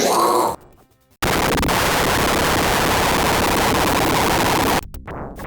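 A boss in the Altered Beast arcade game explodes into a monster with a harsh, blown-out blast. A short burst and a near-silent gap come first, then a dense, heavily distorted roar holds for over three seconds and cuts off abruptly.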